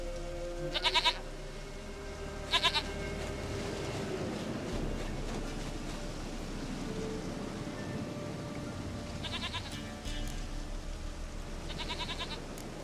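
A goat bleats in the video game The Witcher 3. Four short, nasal bleats come in two pairs, near and clear, over a steady hiss like rain.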